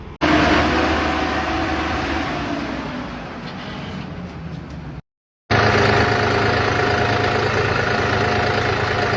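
A tractor engine rumbles and idles steadily, cutting out briefly near the middle before resuming at the same level.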